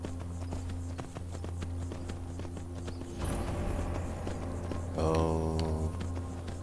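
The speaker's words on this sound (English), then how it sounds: "Hey, we got a horse." Hooves of a horse in the video game Skyrim clip-clop at a steady walking pace over a constant low electronic hum, with a brighter burst of rhythmic clatter near the end.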